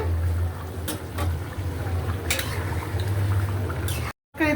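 Hot water poured into a cooking pot of green chilies, tomato and stinging catfish gives a steady, close rushing splash lasting about four seconds before cutting off abruptly, followed by a short burst of noise.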